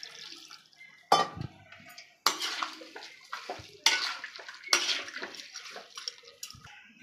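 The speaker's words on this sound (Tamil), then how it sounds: "கொஞ்சமாக தண்ணி ஊற்றிக்கலாம்." Water poured into a cooking pot for a chicken and prawn dish seasoned with rock salt, heard as several short splashing bursts with pauses between, fairly close and fairly loud, with no talking.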